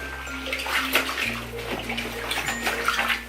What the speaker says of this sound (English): You want to just go in and submerge everything, make sure everything is in the water.